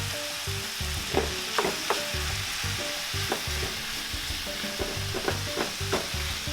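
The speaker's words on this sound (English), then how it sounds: "Now we can begin throwing in the ground beef." Ground beef frying in a pan, a constant dense sizzle with a spatula scraping and stirring in irregular pulses, close and fairly loud, with no talking.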